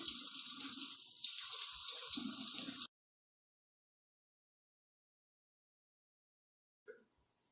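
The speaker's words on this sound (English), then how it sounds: "we're going to wash our hands again." Tap water runs steadily into a sink as hands are washed for about three seconds, then cuts off to near silence, with a faint brief clatter at the end.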